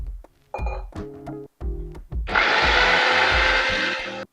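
A mixer grinder blends dry-ground nuts and poppy seeds with a little water into a paste. A few short knocks and rumbles come first, then a steady loud whirring runs for about two seconds and cuts off.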